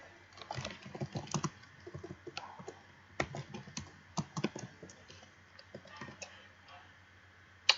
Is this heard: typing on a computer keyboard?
yes